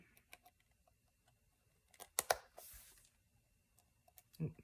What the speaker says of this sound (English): I'm just going to be very careful to only cut the thread